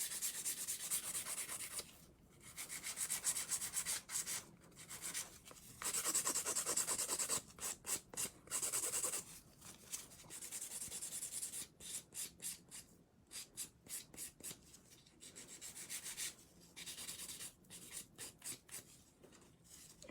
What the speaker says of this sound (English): with the hand filing right here, you can make it a straight slope